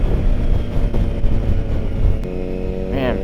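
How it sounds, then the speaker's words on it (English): A 2022 Triumph Tiger 900 under way hums with a loud, steady engine drone and road roar, then the pitch shifts at a downshift and the engine rises briefly near the end. "Man, I downshifted and it's really smooth."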